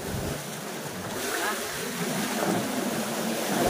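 Big ocean waves surge and roar near the shore at a fishing spot, a constant loud rushing wash with broad swells rising and falling, close and unbroken.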